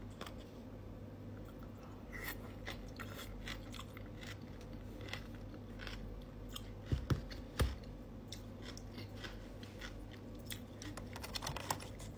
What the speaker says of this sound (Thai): เดี๋ยวลองกินคู่กับกิมจิดูนะคะทุกคน กิมจิบวกกับมันปู